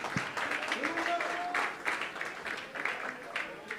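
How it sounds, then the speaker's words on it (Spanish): Congregation at a church service clapping in praise, a steady rhythmic patter of hands under voices and singing, moderately loud throughout. "Un aplauso al Señor, aleluya."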